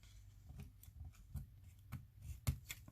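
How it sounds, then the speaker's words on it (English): Scissors snip paper for a collage made from old book pages: a series of short, crisp cuts at an irregular rhythm, quiet and close, with no talking. "take my scissors and trim it"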